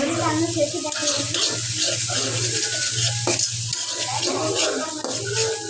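Beef frying in a pan gives a steady sizzle while a utensil stirs and scrapes through it repeatedly, close up, over a constant low hum.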